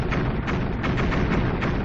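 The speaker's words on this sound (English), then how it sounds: "I can't hear you over the explosions, Jack" Dense, continuous barrage of video game explosions and blasts, loud and close, with rapid overlapping thuds throughout.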